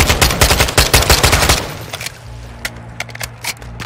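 Call of Duty Modern Warfare 2 automatic gunfire rattles in rapid, loud bursts for the first second and a half, then thins to a few scattered shots over a low background rumble.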